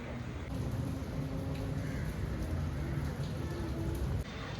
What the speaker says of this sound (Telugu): చూడండి గైస్, వాన పడుతుంది.